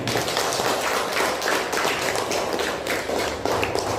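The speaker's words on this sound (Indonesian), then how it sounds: "Tepuk tangan untuk diri kalian" Students clap for themselves in a classroom after presenting their group discussion results, a dense, steady patter of many hands filling the room throughout.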